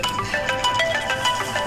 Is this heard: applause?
no